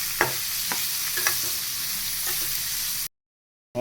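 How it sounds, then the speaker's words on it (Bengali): Paneer pieces fry in hot oil with a loud, steady sizzle broken by a few sharp stirring clicks; the sound cuts to silence briefly near the end, then resumes. "এই তেলটা গরম হয়ে গেছে, পনিরগুলো সব দিয়ে দিই।"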